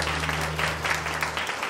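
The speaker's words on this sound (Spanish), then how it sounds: "Aplausos, señoras y señores." Applause from guests at a quinceañera celebration, a steady dense clapping throughout with a low steady hum underneath, no talking.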